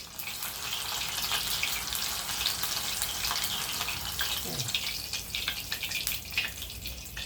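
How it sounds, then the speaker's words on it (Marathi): Batata vadas for vada pav deep-frying in hot oil, giving a dense, continuous crackling sizzle close by with scattered pops and bubbling throughout. "असे छान तळून घ्यायचे."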